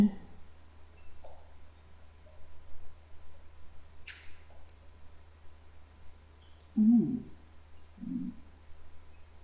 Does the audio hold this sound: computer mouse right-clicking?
yes